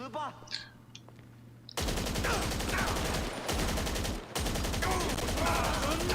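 A magazine emptied in GTA 5 Online, loud automatic gunfire in long unbroken bursts with a brief pause, close and dominating, after a few seconds of quieter game sounds.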